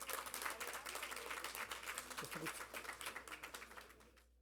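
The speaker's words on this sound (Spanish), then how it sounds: "Un fuerte aplauso, por favor, a la doctora." An audience at a conference on family studies applauds a judge being introduced as the next speaker. The clapping is dense and fairly faint, heard from a distance, and tapers off near the end with a brief low voice partway through.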